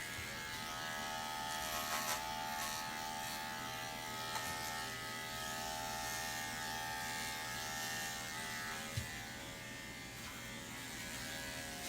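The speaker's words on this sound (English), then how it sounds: "So I'm going to shave the whole underside" Electric clippers with a number 7 blade shave the underside of a terrier, making a constant close motor buzz with a steady hum that barely varies, with a few faint knocks and no speech.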